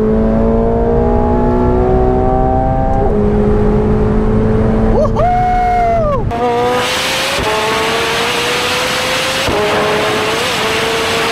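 A McLaren 750S accelerating hard on the Estoril race track, its engine note climbing steadily through gear changes with brief pauses between shifts, loud and close throughout.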